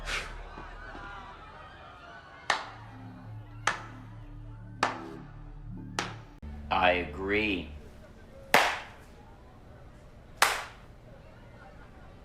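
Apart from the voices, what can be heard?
a slow clap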